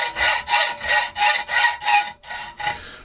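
A hacksaw blade cuts through a metal workpiece in seven steady back-and-forth strokes, each a bright rasping swell, with a brief pause before the last two strokes, close and alone.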